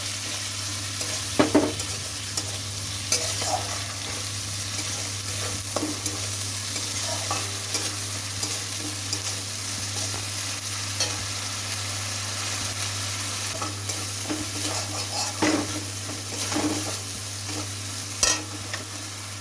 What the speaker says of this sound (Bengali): আমার মশলা সুন্দর করে লাল লাল করে ভাজা হয়ে গেছে